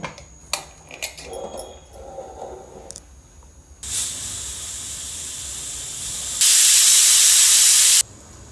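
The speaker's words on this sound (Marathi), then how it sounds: "तीन शिट्ट्या काढून घेऊ" Loud hissing of steam escaping from a pressure cooker of moong dal khichdi, rising to a sharp, intense whistle that cuts off abruptly, after some clattering and clicks.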